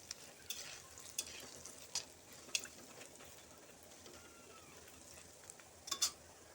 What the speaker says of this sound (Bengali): দেখো বন্ধুরা কি সুন্দরভাবে ভাজা হচ্ছে